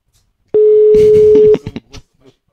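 A single steady telephone ringback tone sounds loud and close for about a second, then cuts off, followed by brief faint rustles.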